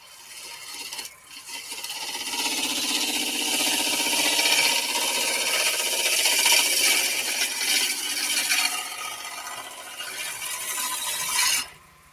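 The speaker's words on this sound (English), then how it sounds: "you should have that chisel locked between your thumb and your forefinger up on the rest" Chisel cutting wood on a spinning lathe with the tool braced on the rest, a loud sustained close rasping scrape that swells and fades before cutting off near the end, no talking.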